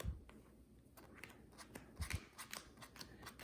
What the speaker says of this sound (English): So let's go ahead and do a quick pile shuffle.